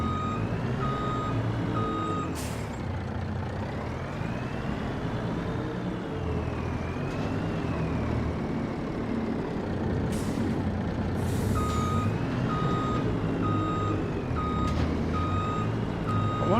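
A truck in Farming Simulator 25 reverses with steady repeated beeps over a continuous engine drone, with a few short hissing air-brake bursts along the way, no talk.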